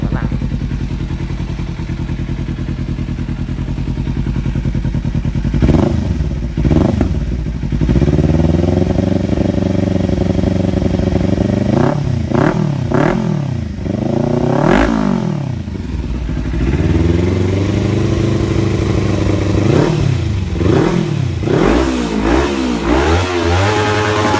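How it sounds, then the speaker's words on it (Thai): A Kawasaki Ninja 300 sport motorcycle idles with a throaty rumble, then is revved repeatedly, the engine climbing to sharp, loud peaks before dropping back, heard up close. "เดี๋ยวมาฟังรอบวง"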